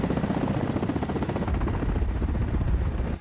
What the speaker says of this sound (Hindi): हेलीकॉप्टर दुश्मन के इलाके में हमले के लिए उड़ान भरता दिखाई दिया